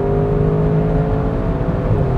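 A 2021 Audi RS6 Avant wagon's V8 engine hums with a steady, loud drone from close by, a continuous low rumble with a sustained tonal whine and no voices.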